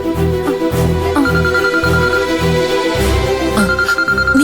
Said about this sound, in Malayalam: ദേ അച്ഛൻ മഞ്ചാടിയെ വിളിക്കുക